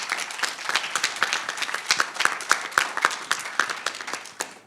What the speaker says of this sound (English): another round of applause is merited